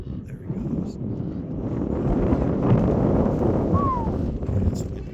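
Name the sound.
wind blowing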